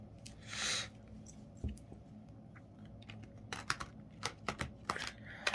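Tarot cards are shuffled up close in a quiet room, a string of quick, crisp riffling snaps and rustles coming in bursts toward the end.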